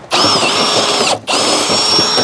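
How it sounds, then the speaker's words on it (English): A power drill runs in reverse on a DIY backyard apple grinder, whining loudly and close in two bursts separated by a brief stop, with no talk. "pop your drill in reverse and just bounce them a little bit"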